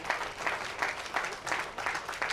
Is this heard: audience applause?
yes